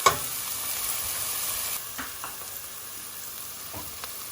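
Onion frying in oil in a pan, a steady close sizzle and hiss running throughout with a few faint stirring knocks, no voices.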